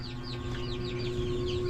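A chicken clucks softly in a rapid series of short calls over a steady background hum, fairly faint and close, with no talking.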